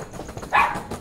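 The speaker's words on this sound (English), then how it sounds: "We just closed the door and the dogs are already barking." A single short bark from a street dog rings out in a residential street, moderately close, over faint background noise.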